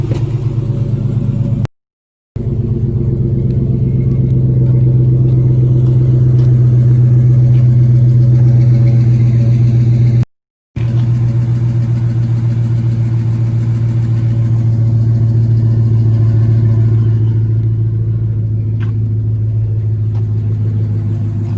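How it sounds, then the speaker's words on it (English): A 2009 Ram 1500 pickup idles steadily with a low, continuous engine rumble, and faint ticking and popping from the exhaust manifold run through it; two brief dropouts cut the sound, and no one speaks. "you're gonna hear that ticking and that popping from the front of that at first"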